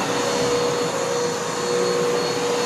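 A Shark vacuum cleaner runs steadily with a loud, even motor roar and a thin constant whine, unbroken throughout with no talking.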